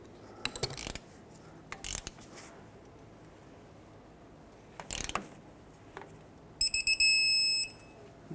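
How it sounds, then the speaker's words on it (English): Torque wrench on brake caliper bolts of a Chevy Express 3500 van gives short ratcheting clicks in several bursts, ending with a sharp repeated click as it reaches torque, quiet and close. "Let's torque these to 80 foot-pounds."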